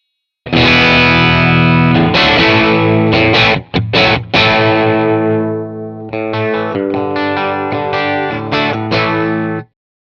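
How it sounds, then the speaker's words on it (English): Distorted electric guitar from a Fender Stratocaster played through an Orange Dual Terror amp head, loud and close with bright effects, a brief break near four seconds, then chopped, rhythmic chords to the end. "I'm gonna grab a Strat and show you what that sounds like too"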